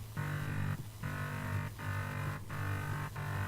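Massive bass with a bit crusher, dry/wet near one o'clock and crush near two o'clock: about five evenly repeated thick, buzzing notes with harsh, crunchy highs, played solo.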